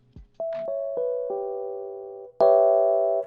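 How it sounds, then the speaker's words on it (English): A Rhodes electric piano plays a soft bell-like chord, notes entering one after another, then a second, brighter chord rings out alone, warm and sustained. "That is like the Rhodes piano that everyone uses in Pluggnb beats."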